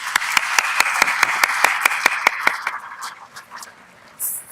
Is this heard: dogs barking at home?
no